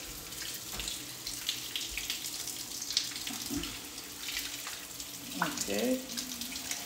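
Water running from a tap while hair is rinsed, a steady splashing flow close by with a voice and brief talk over it.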